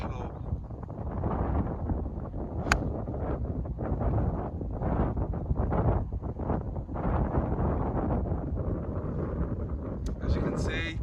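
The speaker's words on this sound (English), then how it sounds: "I do have a big wind" Strong gusting wind buffets the microphone on an Irish links golf course at Arklow, a steady low roaring rumble that runs unbroken throughout and stays loud from start to finish.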